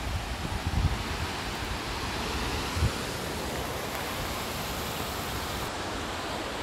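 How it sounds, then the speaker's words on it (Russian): Steady broadband rush of a mountain waterfall in an alpine meadow setting with grazing cows nearby, a continuous even roar heard from a distance, partly mixed with wind noise and no talking. "Водопад."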